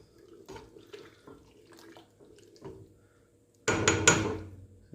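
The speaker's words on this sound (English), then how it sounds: "we're going to pour in our acid. It's about 1/3 cup all at once" About a third of a cup of acid poured all at once into simmering milk to make ricotta, a sudden loud splashing pour after a few quiet clinks and taps, close and brief.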